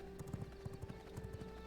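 A horse gallops in the video game V Rising with a quick, rhythmic clip-clop of hooves. It is faint and steady over a constant hum, with no talk.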